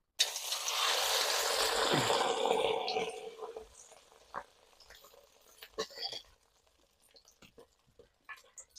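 An egg-and-potato puri sizzles loudly as it hits hot oil, with a dense frying hiss that fades after a few seconds into quieter bubbling and a few utensil clicks.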